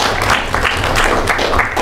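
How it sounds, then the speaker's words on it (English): Audience applause for a vice president stepping up to the podium, a steady dense wash of clapping filling the room for the short stretch with no voices on top. "You haven't even spoken yet, and you're already being applauded."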